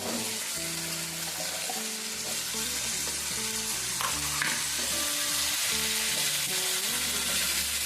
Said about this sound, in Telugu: పచ్చిశనగపప్పు వేగుతూ ఉంది కదండి,